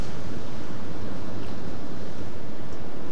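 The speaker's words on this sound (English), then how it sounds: "I have just seen two waves come up while I was just setting up" Ocean waves surge and crash over coastal rocks and a wall, heard as a steady, loud roar of surf mixed with wind noise on the microphone, with no speech.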